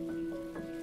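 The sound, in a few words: rain falling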